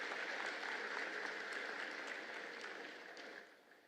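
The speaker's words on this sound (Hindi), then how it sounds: "एक बार आप सभी जोरदार ताली बजाकर उन सभी का स्वागत और अभिनंदन करें" An audience at a university convocation ceremony in Jaipur applauds the graduating batch, a dense, steady patter of many hands clapping that fades toward the end, heard at low level.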